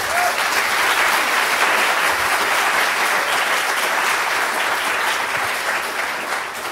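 A church congregation applauds its new minister at a morning service, steady sustained clapping filling the room without pause, loud and close, tapering slightly at the end.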